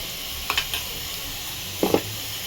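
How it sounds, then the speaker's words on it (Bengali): Fried onion and garlic paste cooking in a pan for mutton kosha, a constant close hiss broken by a few quick spatula scrapes and taps. "এটাকে ভাজবো ভালো করে রসুনের সাথে"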